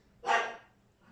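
A dog gives a single sharp bark close by indoors, in a home caring for rescued kittens; the bark rises quickly and fades within about half a second, with no talking.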